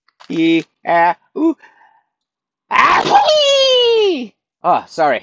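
A person sneezes loudly in a high, squeaky, cartoon-like way, with a long whining voiced tail after a sharp burst, between short spoken exclamations.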